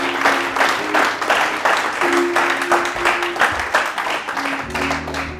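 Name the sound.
congregation applauding to acclaim the king of kings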